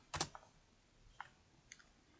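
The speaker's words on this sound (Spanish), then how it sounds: "Y presionamos Enter. Enter de la tecla de nuestro teclado." A single sharp click of the Enter key on a computer keyboard, followed by two fainter ticks in a quiet room.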